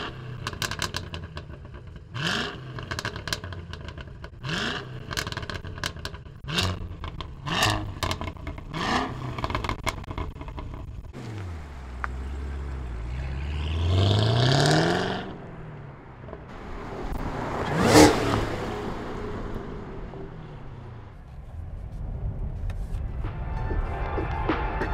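A 670 hp Cadillac Blackwing driven with traction control off on slippery ground: a string of sharp engine blips and gear changes, then a long rising rev and a loud surge before settling back to a steady drone, with no talk.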